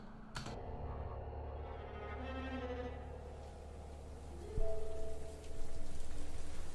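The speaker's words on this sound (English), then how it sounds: "the rain steadily drummed against the roof and the wind lashed against the walls of the church" Steady rain drums on a church roof with wind lashing the walls, a dense continuous hiss and patter with a sharp crack near the start and a brief thud midway, the downpour swelling louder toward the end.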